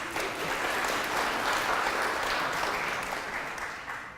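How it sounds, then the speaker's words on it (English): A large audience applauds steadily at a political talk, dense clapping sustained throughout and easing slightly toward the end, with no voices over it. "those of you who are clapping"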